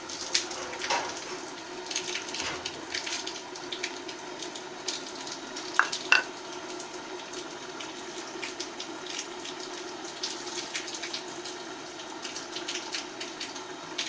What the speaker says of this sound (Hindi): घी मेरा गर्म हो चुका है। अब मैं इसमें अंडा डाल दूँगी।